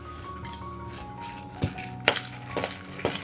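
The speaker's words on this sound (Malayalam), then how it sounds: "ഇനി ഇതെല്ലാം ഒന്ന് മിക്സ് ചെയ്യാം." Sugar and vermicelli being mixed in a bowl with a spoon, producing scattered clinks and scrapes of metal against the dish, a few sharp taps spaced irregularly over a low quiet background.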